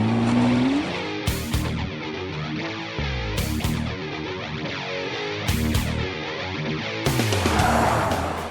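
Nissan GT-R sports car driven hard, engine revving and shifting in repeated surges with sharp tire squeal, close and loud with no talking.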